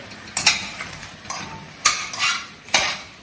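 Bay leaves being stirred in a cooking pot for potato cauliflower soup, with several distinct scraping clinks of a spoon against the pot, close and moderately loud, no voices.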